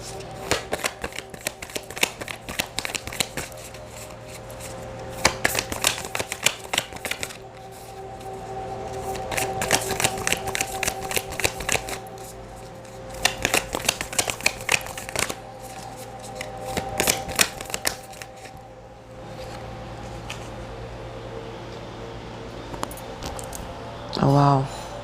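Akashic oracle cards shuffled in bursts of crisp riffling and flicking, loud and close, with pauses and soft handling between, and a brief voice near the end.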